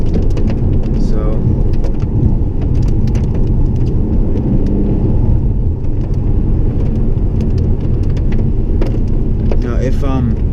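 A Lexus RC F, a rear-wheel-drive V8 coupe, drives on wet roads in heavy rain. Steady rain hiss and tyre spray sit over a low engine and road rumble, while a voice talks over the noise.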